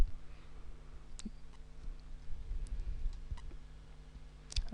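Computer mouse clicks on a Myspace layout page, a few faint, sharp isolated clicks spaced over a few seconds against a low room hum.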